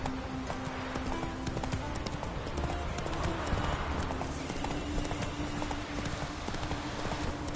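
Horse hooves clip-clopping at a steady rapid gallop in the game The Witcher 3: Wild Hunt, a continuous rhythmic drumming close up under ambient outdoor noise.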